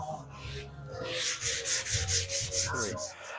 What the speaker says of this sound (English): I'm done sanding for the day.